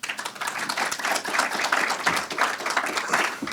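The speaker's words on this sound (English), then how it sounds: "Don't clap too early." Audience applause at a speaking event, a dense steady patter of many hands clapping at close range throughout.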